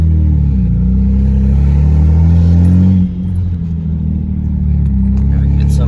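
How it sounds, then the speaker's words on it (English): Upgraded turbos on a BMW 335i with open downpipes spool up under a loud, low engine drone heard from inside the car, with the pitch rising, dipping around midway and building again. "the turbo spooling. It's no single turbo, but I think it sounds great."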